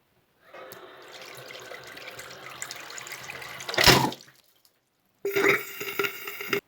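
A faucet runs hot water with a steady rush, aerator removed after boiler cleaning, briefly gushing louder, then stops before another burst of spattering flow resumes.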